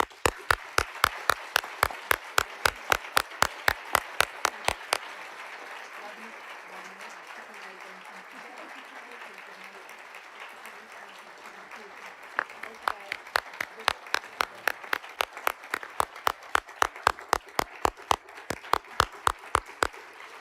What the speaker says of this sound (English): Will you all please join me in giving a round of applause?